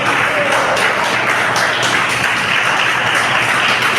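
A church congregation applauding loudly during a service, a close, dense wash of clapping that stays at a constant level for about four seconds.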